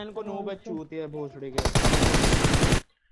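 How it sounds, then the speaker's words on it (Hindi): Loud, sustained automatic gunfire in PUBG Mobile, a dense burst lasting over a second that comes right after someone speaks briefly. "मैंने उस पर फायर किया उसको लगा शायद अब मैंने फायर रोक दिया"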